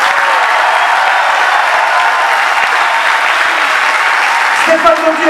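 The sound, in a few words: applause for basketball club leaders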